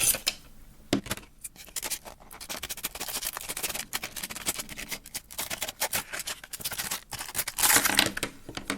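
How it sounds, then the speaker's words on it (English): A Mini Maglite AAA flashlight is pried out of a plastic clamshell package, producing close crackling, scraping and crinkling of stiff plastic in irregular bursts, with louder tearing toward the end. "So I'm gonna bust this thing out of the clamshell."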